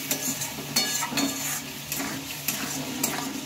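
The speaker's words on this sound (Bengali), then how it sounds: "এবার ভালোভাবে মশলার সাথে এটাকে মিশিয়ে নেব।" Boiled chickpeas stirred into a fried spice mix in a pan, a soft sizzle under repeated scraping strokes of a spoon against the pan, close and moderately quiet.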